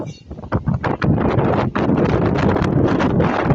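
Loud, steady seaside wind roars and buffets close to the microphone, with gusty surges and rumbling through the whole stretch, in Oriental Mindoro.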